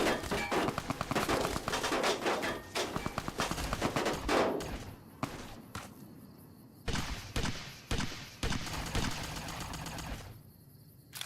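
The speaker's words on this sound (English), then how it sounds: "I'm getting artillery called down on me." Heavy artillery and gunfire in the Fallout wasteland video game: dense rapid bursts and booming blasts up close, dropping to spaced loud impacts with gaps between.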